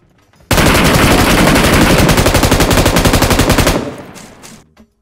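M249 machine gun in PUBG Mobile firing one long, loud, rapid burst close by. It stops abruptly and the echo fades out.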